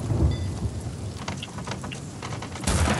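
Thunder booms and rumbles alongside heavy rain in the pirate game Sea of Thieves, with a dense hiss of rainfall throughout and a louder crack and surge near the end.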